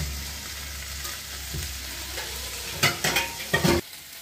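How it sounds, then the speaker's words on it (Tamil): Chopped onion and tomato sauté in a pan for vegetable rava kichadi, a soft continuous sizzle under occasional spatula stirs, ending in a few louder, sharper scrapes and clatters close by; no voices. "இதை வெங்காயம் நல்லா வதங்கினோடனே அந்த தக்காளி அதில் போட்டுடுவோம்."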